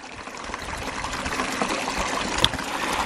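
Water trickles and splashes steadily into a Coanda screen intake on a micro hydro system, a close, continuous burbling flow with a small splash near the end.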